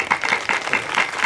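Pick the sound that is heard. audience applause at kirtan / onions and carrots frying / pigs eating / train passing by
audience applause at kirtan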